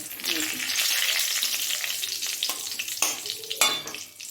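Whole cumin seeds and a bay leaf crackle in hot oil, a close, bright sizzle with a few sharp spatters and utensil scrapes near the end.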